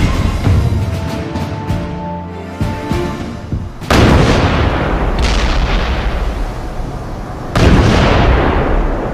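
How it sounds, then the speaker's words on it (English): A massive 1943 naval bombardment at Tarawa in the Pacific thunders as heavy artillery fire, with deep rumbling blasts and rolling booms, loud and close, with two especially powerful explosions bursting out over a continuous roar. "the American attack begins with a massive naval bombardment"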